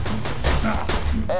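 Rapid gunfire in the video game Borderlands 2 during a duel, a short burst of repeated shots heard loud and close under a player's voice.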